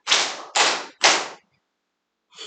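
A church congregation claps three times with open palms, each a loud, dense burst of many hands that rings out in the hall, followed by quiet and a faint trailing sound.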